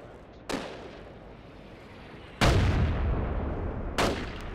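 Video game gunfire in a Gaza battle map: three sharp, loud shots spaced a couple of seconds apart, each leaving a long rumbling tail over steady background noise.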